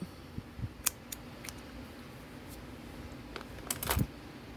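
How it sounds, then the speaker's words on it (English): Scissors snip the tail of a crochet chain on a friendship bracelet, a few faint, quick metallic clicks spaced apart in a quiet room, with a brief cluster of snips near the end. "You're going to take a pair of scissors"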